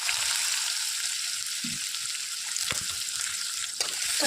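Crushed garlic and cumin sizzle and crackle steadily in three ladles of hot oil in a kadhai over a gas flame, a dense continuous fry with a couple of sharp pops and a brief stir.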